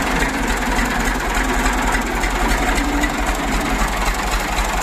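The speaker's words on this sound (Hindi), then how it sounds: "तो देखते हैं कि ट्रैक्टर अंदर कैसे जाता है और कैसा नजर आता है" Tractor engine idling and rumbling steadily at close range as it pulls into a thatched hut, a constant low throb with no voices over it.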